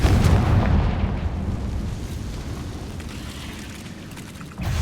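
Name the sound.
Confringo blasting spell explosion from the video game Hogwarts Legacy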